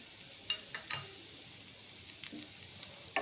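Cauliflower and mixed vegetables softened with ginger are stirred in a pan with a spoon, giving a faint steady sizzle broken by a few soft scraping clacks, quiet and close with no talking.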